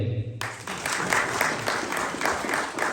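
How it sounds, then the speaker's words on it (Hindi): An audience at a New York fundraising event for Namal University students breaks into applause, a dense, lively clapping that fills the room and carries on steadily for a few seconds after a voice cuts off. "आप लोगों के लिए भरपूर तालियां होनी चाहिए"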